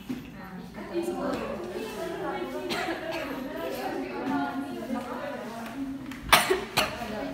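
A woman teacher wearing a mask talks steadily in Indonesian during a maths lesson, then a couple of sharp coughs break in near the end.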